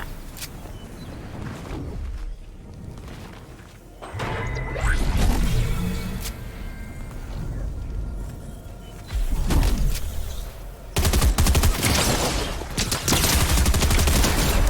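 A Maven auto shotgun fires in a video game, with bursts of rapid gunfire in several loud clusters, shot sounds overlapping in dense volleys alongside impacts and movement noises.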